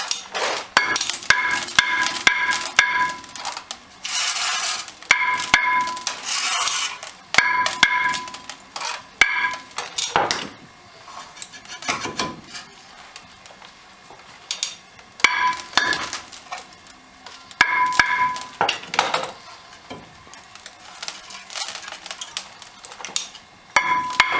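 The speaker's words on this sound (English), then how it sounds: "Now once you're at this point, the rotor should come right off." Metal clanks, knocks and clinks as a scored brake rotor is worked off the front hub of a 2006 Ford F350 dually pickup, irregular close hits and scrapes spread through the stretch with no talking.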